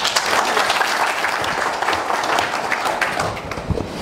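An audience at a climate change adaptation event in Longreach applauds, steady dense clapping that stays loud and even for the whole stretch, filling the room without pause.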